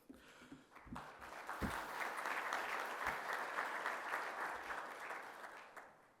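Audience applause at the opening of a construction symposium, a crowd clapping that swells quickly, holds steady for several seconds and then tapers off, moderately distant.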